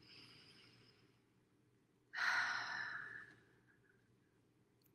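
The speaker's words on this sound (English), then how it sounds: "Big breath in." One deep, close breath drawn in during a guided meditation, a soft airy rush lasting over a second against a near-silent, low hum.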